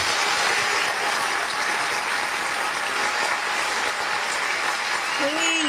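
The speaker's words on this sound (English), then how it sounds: "y'all get up, clap your hands, and give her this warm welcome she deserves." An audience claps hands in welcome for a guest at an interview event, a steady wash of applause throughout, with a brief voice heard near the end.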